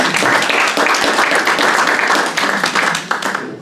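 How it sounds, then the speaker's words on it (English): A lecture audience bursts into loud, close applause during a live body-magic demonstration, many hands clapping in a dense, continuous patter that holds steady before tapering off at the end. "Give a big round of applause."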